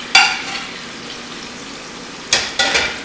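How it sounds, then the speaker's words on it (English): Meatballs for chili frying in a pan, a steady close sizzle with sharp scraping stir bursts at the start and again near the end. "I have put some of the meatballs in and started those."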